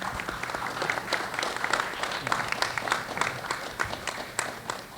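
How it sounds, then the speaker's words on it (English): An audience applauds panelists at a roundtable on Hawaiian independence and expanding islands, a steady wash of many hands clapping at moderate level, fairly close, with no talk over it. "please join me in giving all of them a round of applause"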